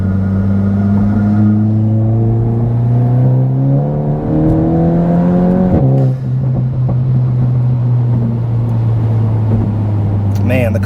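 A Volkswagen Golf GTI with a stage 1 tune revs hard in third gear, its drone climbing steadily in pitch before a gear change drops it, then rising again; loud and close, heard from inside.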